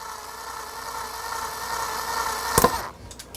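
An electric drill whirs at a steady pitch for a few seconds, ends with a sharp snap as the drill bit breaks, and the motor winds down.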